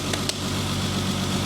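A SpecE36 race car engine, rolled over in a crash, idles steadily and smoothly just after being restarted, a loud, close, continuous rumble with a couple of faint ticks near the start and no speech.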